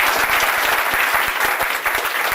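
An audience at a community business event claps for a school board and superintendent, a dense, close round of applause with crisp individual hand claps, steady and loud throughout.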